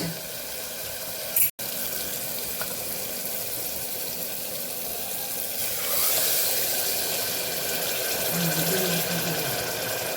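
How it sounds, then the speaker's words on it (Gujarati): A steady stream of water pours and hisses into a pot of mung beans, continuous throughout, with a brief sharp clunk early on and a slightly louder rush later. "ત્રણ વાટકી આપણે અહીંયા પાણી ઉમેરવાનું"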